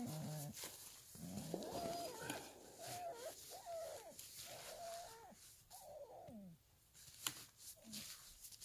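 A dog whines and yelps in repeated short, pitched cries during a winter day trip in Northern Michigan, fairly close and restless, with a brief sharp sound near the end.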